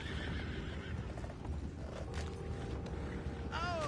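Horses neigh and whinny in Red Dead Redemption 2, with a loud rising-and-falling whinny near the end, over creaking, clip-clopping hooves and ambient game noise.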